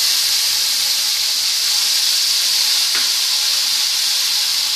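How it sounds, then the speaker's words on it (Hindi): Tomato paste sizzling in a hot pan, a loud, even, continuous hiss of steam and frying that holds steady throughout with a faint tap partway through. "अब इसमें हम टमाटर का पेस्ट डाल देंगे"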